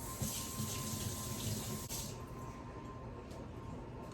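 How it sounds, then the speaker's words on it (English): Hands being rinsed under a running kitchen tap after rolling biscuit dough, a steady close rush of water splashing into the sink with a slight shift partway through, no talking. "Now, let me give my hands a little wash."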